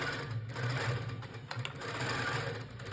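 A Handi Quilter Pro Stitcher quilting machine runs steadily as it stitches a quilt, a close, even mechanical whir with a fast needle rhythm and no speech.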